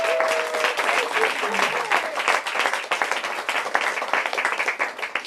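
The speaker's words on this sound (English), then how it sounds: "So I just need to have everyone clap for Nancy." A crowd claps and applauds steadily, dense and lively, with a voice briefly heard at the start beneath the clapping.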